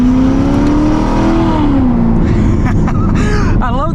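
A Chevrolet Corvette ZR1 engine revs hard under acceleration, its loud rising and falling drone filling the cabin steadily, with a voice briefly speaking over it near the end.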